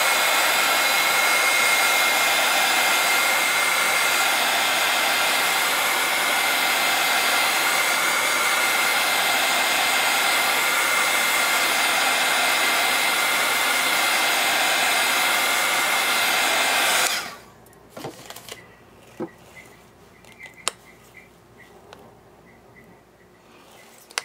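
A hair dryer blows steadily and loudly at close range to dry glaze on spin art, running for about seventeen seconds before cutting off, followed by faint clicks and small handling noises.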